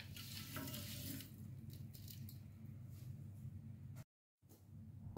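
Tap water runs into a pot for a sugar syrup of 300 ml water and 50 g sugar, a steady close splashing flow with a brief cut near the end.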